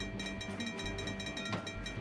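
A train in the video game Trainz rumbles past with a rhythmic clatter and a sustained tonal whine, very quiet, with a brief click midway.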